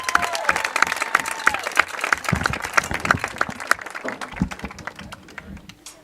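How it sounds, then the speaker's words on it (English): Football game crowd applauding in a sustained burst of clapping that gradually thins out, with a few faint voices. "Please join me in a round of applause for Spencer Glenn."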